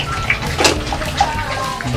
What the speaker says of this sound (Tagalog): Nilagyan ko ng konting tubig.